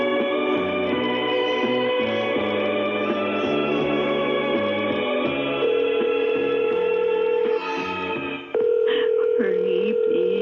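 A mobile phone rings on and on with no answer, a repeating electronic melody that stays steady and fairly loud, with no voices over it.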